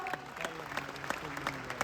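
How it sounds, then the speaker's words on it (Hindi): Audience at a motivational speech event applauding, a faint, continuous patter of clapping from a crowd with some sharper claps, fairly distant and quiet, with a little voice in the background. "उनके लिए भी जोरदार तालियां"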